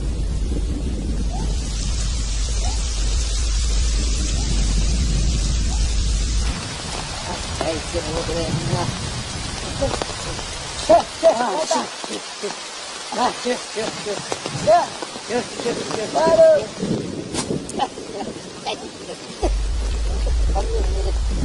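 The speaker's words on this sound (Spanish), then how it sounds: "En cuestión de segundos la tormenta vuelve a descargar con fuerza." Heavy rainstorm pounding down in the Amazon jungle, a steady loud wash of rain with wind buffeting the microphone, easing in the middle while people talk before the downpour surges back.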